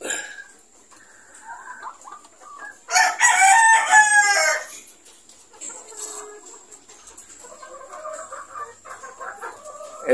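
A Red Kelso gamefowl rooster on a gamefarm gives one loud, close crow lasting about a second and a half, with softer clucks and chatter from other birds before and after.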